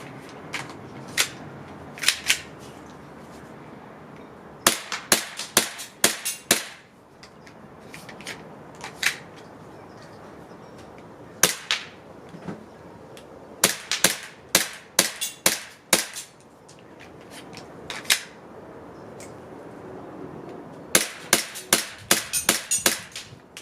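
A WE G17 gas airsoft pistol fitted with a Salient Arms magazine fires in quick bursts of sharp, snappy cracks. The shots are close and come in clusters with quiet gaps between them.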